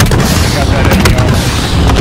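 A loud, sustained explosion in the Call of Duty: Modern Warfare video game, a dense booming rumble filling the whole moment with no pause.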